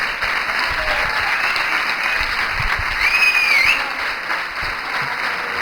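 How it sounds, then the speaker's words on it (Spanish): Audience applause at a sports journalism talk event, a steady wash of clapping from a seated crowd lasting several seconds, with a brief whistle rising above it midway. "Un aplauso para él, por favor."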